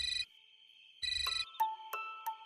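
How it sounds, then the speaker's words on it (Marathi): A phone rings at night, an electronic ringtone with repeating bright bursts that pause and resume, then shift into sharper chiming tones, fairly loud and alone without any speech. "काय रे राणा एवढ्या रातच्याला का फोन केलायस?"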